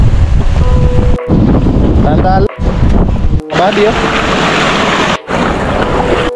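Strong wind roars across the microphone with sea waves surging close by during a super typhoon, loud and continuous, while someone talks over it throughout.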